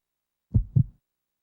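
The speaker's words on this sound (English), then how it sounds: "Claire's heartbeat is going to race" Claire's racing heartbeat in the video game Resident Evil Code Veronica X sounds as a single deep lub-dub double thump, close and heavy, alone against silence.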